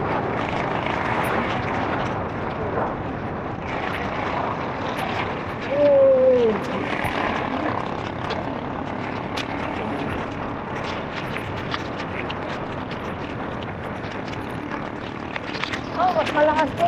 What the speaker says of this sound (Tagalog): Masakit na yung tama ng ulan sa balat.